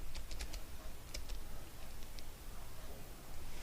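Keys click on a computer keyboard as a city name is entered into an Excel spreadsheet, a few scattered light taps over a constant background hiss.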